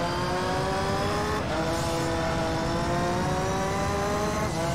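A race car engine in the video game Gran Turismo 3 drones loudly and continuously, its pitch climbing steadily through the revs, then dropping briefly at a gear change before rising again.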